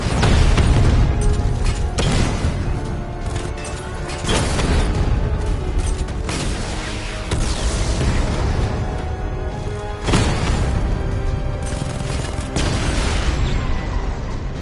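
Heavy explosions and mechanical clanking batter a Rattler tank in the Batman: Arkham Knight video game, with loud booming hits recurring every few seconds over dense, continuous battle noise.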